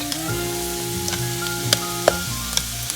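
Chopped, drained fresh spinach hits a hot pan for a quiche and sizzles steadily, with scattered stirring clicks and scrapes over a constant frying hiss.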